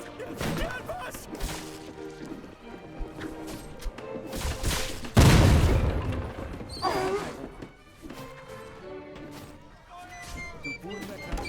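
Cannon fire bursts in Guts & Blackpowder, a heavy boom near the middle standing out amid scattered crashes, thwacks and gunfire, with voices shouting throughout.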